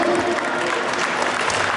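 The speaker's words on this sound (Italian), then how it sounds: "Applauso all'assessore, applaudiamo da Mattia Stefanello ed Arizza Bollettini" Applause from a crowd at a boxing event held by a Veronese boxing association in San Giovanni Lupatoto, honouring the officials: dense, steady clapping that holds at an even, loud level throughout without any break.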